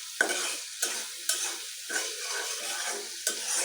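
Local free-range chicken frying in a pan, stirred with a utensil that gives sharp scrapes and clinks at irregular intervals over a steady sizzle, close up with no talking.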